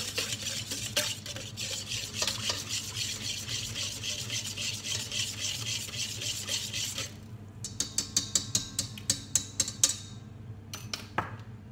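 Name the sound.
mixing baker's yeast into lukewarm milk in mixer bowl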